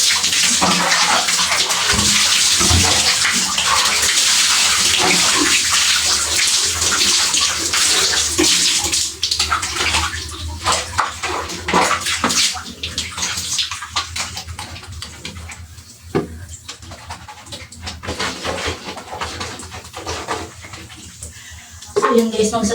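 While bathing, water pours heavily over a person's body and a white T-shirt, heard as a loud, continuous splashing rush. It eases and turns patchier toward the end, with a voice talking now and then.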